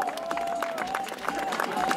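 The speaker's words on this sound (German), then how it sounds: "Dieser Applaus ist für dich" Applause for a skier at a junior alpine giant slalom race, a dense patter of outdoor clapping heard under a commentator's voice for a couple of seconds.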